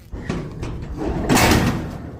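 A newly self-installed garage door closing, a rolling, rumbling slide that builds to a louder clattering thud midway and then settles, close and fairly loud.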